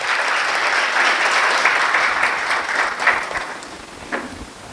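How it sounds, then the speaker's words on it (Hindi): Sustained, dense applause from an audience at a poetry recital, honouring an emotional poem; steady and fairly loud throughout, with no talking over it. "एक बार मुझे लगता है इस भावनिक कविता के लिए और जोरदार तालियां होनी चाहिए।"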